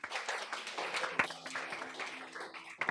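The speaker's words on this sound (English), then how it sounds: "So please give them a round of applause." An audience claps steadily at a Games for Change APAC event in Hong Kong, a dense even patter of many hands with a couple of sharper individual claps standing out, lasting the whole stretch.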